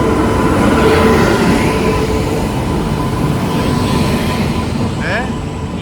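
A train arriving at a station rumbles steadily nearby with broadband rolling noise and a faint sustained tone, as at a busy platform; a brief higher squeal appears near the end.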